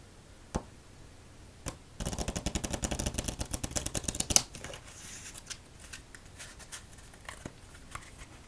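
A deck of playing cards riffle-shuffled during a solitaire game: a dense burst of rapid flutters lasting about two seconds, preceded and followed by a few sharp card taps and snaps, close and crisp with no talk.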